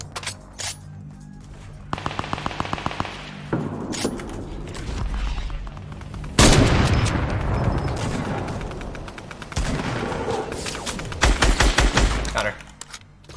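Rapid bursts of gunfire in the Fortnite Battle Royale video game, with repeated rattling volleys and a few heavier booms in quick succession, loud and close.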